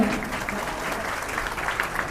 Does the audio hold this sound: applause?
yes